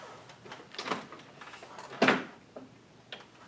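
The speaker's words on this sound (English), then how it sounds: "And now what I want to do is open up this door on the front." A front access door on a Mr. Cool mini split air conditioner is opened, giving a few soft plastic clicks and shuffles with one sharper, louder knock near the middle, heard close up with no talking.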